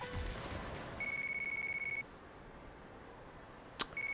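Electronic phone ring in Yakuza: Dead Souls, a thin steady tone that sounds for about a second, pauses, then starts again, faint against a quiet background.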